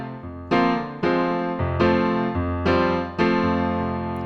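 Left-hand piano part of a song, with low bass notes stepping down and back up under ringing chords, each strike decaying before the next in an even, unhurried pulse, close and solo.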